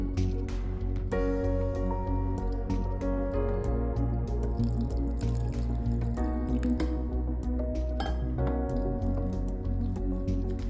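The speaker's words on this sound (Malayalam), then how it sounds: "2 കപ്പ് വെള്ളം എന്തായാലും വേണ്ടി വരും. ഞാൻ കുറച്ചായിട്ട് ഒഴിക്കുന്നുണ്ട്." Water trickles and splashes steadily in small pours into a thick jackfruit snack batter in a home kitchen, with soft squishing and dripping throughout.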